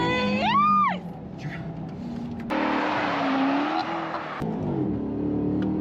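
A Maserati GT engine snarls loudly, rising sharply in pitch, then settles into a harsh, sustained roar with a sudden cut and restart near the end.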